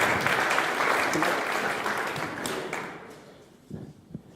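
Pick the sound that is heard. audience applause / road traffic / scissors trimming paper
audience applause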